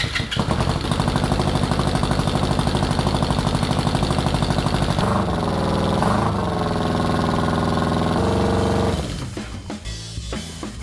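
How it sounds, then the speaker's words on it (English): A restored 1980s Honda cafe racer motorcycle engine running steadily after repeated ignition attempts, a loud close rhythmic putter with a shifting tone partway through, then dropping to a rougher idle near the end. "and eventually the engine responded."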